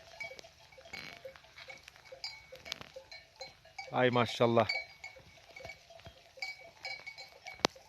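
Grazing sheep and goats bleat outdoors among scattered clinks and cowbell-like tones, with one louder close bleat in the middle and a brief spoken exclamation in Turkish.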